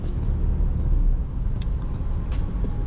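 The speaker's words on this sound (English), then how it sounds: "You can definitely tell that you're driving a diesel." A steady, low diesel rumble from a 2022 Isuzu D-Max LS-E 4x4 pickup while driving, droning continuously inside the cab with faint higher hiss above it.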